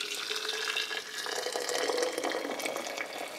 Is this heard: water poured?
yes